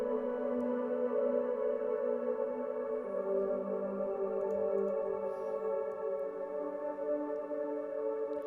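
Layered atmospheric synth pads for future bass hold a wide, sustained chord that shifts to a new voicing about a third of the way in. The sound is smooth, steady and alone, with no talking over it.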